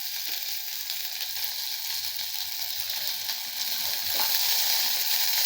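Onions for a hotel-style potato masala fry in hot oil in a pan, a steady close sizzle that swells slightly toward the end.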